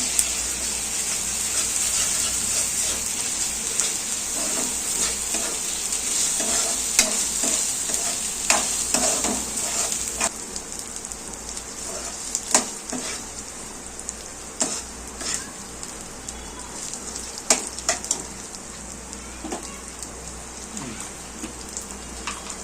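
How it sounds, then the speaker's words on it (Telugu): A spoonful of ginger-garlic paste fries in a pan while being stirred, giving a steady close sizzle with frequent scraping clicks of the spoon, loud at first and easing slightly after the midpoint. "అది బాగా పచ్చిపోసం పోయేలాగా మనం వేపుకున్నామండి"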